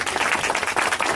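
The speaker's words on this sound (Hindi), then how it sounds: "क्या प्रभु की तालियां देकर आराधना कर सकते हैं?" Worshippers in a church congregation clap together during a service, a dense, steady patter of many hands filling the brief moment with no voices over it.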